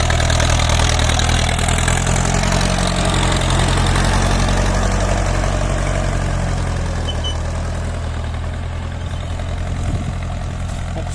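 A Ford 6640 tractor engine running steadily at close range during rainy-season field work, a loud continuous low rumble and drone that holds its level for the whole stretch with no voices.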